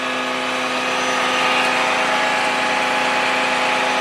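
A 2021 Ram tow truck running with its PTO engaged, giving a loud, steady, unbroken engine drone with a constant hum and no change in pitch.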